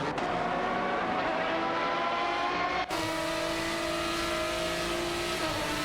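Chevrolet Corvette C6.R race cars in an AI racing video game, a loud sustained engine roar held at high revs, with a brief dip and gear change midway before the engine drones on steadily.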